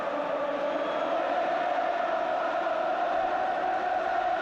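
A football crowd at Stamford Bridge for a Chelsea versus Liverpool FA Cup fourth-round tie keeps up a steady, distant roar and murmur with no sharp cheers.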